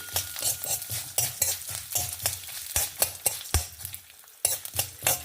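Peppercorns, fenugreek and mustard seeds roasting in sesame oil crackle and sizzle with rapid, loud bursts of popping and scraping stirs, close and continuous with no talking.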